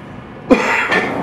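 A single sharp cough bursts out close to the microphone, followed by a short second huff, against quiet room tone.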